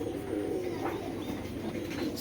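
Racing pigeons, including a black checker pair, cooing softly in a loft amid a steady background murmur, low, continuous and fairly distant.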